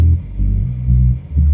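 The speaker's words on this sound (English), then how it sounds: "Got that classic filtered bass in there." A classic filtered house bass line, built from an upright jazz bass recording, pulses in short, muffled low notes with a rounded, rhythmic bounce, loud and alone with no voices.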